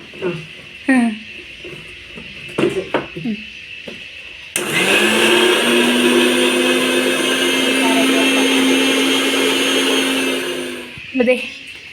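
Coconut grinds in an electric mixer grinder with a loud, steady, close whirring drone lasting about seven seconds, with people talking before it starts and after it stops.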